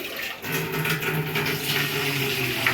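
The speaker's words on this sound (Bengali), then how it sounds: "ভাতের চাল ধুচ্ছি ভাতের চাউল ধুচ্ছি" Rice being washed in water for cooking, a continuous close sloshing and running-water wash with soft splashes throughout the short stretch.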